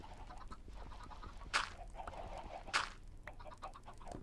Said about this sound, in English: you can see we have quite a few chickens in there already, so they're laying lots and lots of eggs for us